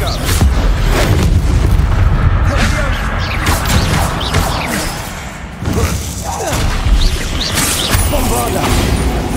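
A fiery blast spell lands amid a Hogwarts Legacy boss fight, with heavy booms, thuds and crashes layered over constant combat noise, loud throughout, while a voice calls out spell names.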